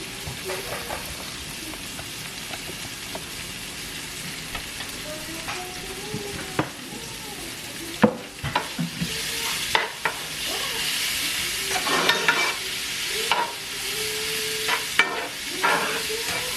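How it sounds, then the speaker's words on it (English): Dumplings hit oil in a hot pot with a steady frying sizzle and hiss, joined by clinks and scraping of utensils and rising bursts as more go in. "I'm gonna start putting the dumpling actually in the pot"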